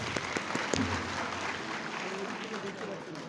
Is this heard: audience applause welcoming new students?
yes